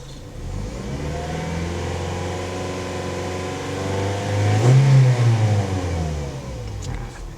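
A car engine revving from a steady idle, its pitch climbing past 3,000 rpm to a loud peak before easing back down, close and continuous with no talk.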